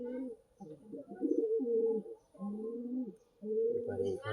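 Several pigeons in a home coop, some sitting on eggs and chicks, coo in low, throaty phrases one after another. The birds sound close and fill the whole stretch, with brief pauses between bursts.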